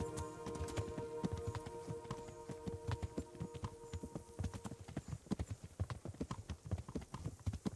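Horse hooves clip-clopping at a slow riding pace in Kingdom Come: Deliverance, steady rhythmic hoofbeats up close with a faint background hum.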